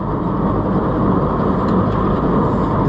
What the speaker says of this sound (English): that's just the gearbox